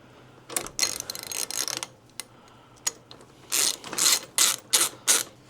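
A 3/4 ratchet tightens a Loctite-coated bolt on a Harley Road Glide motorcycle, giving loud, close bursts of rapid pawl clicking in several separate runs with short pauses between them.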